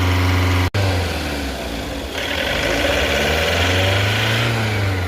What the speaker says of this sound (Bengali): ইঞ্জিনে যখন অ্যাক্সেলারেট করা হয় তখন একটা করে একটা সাউন্ড চলে যাবে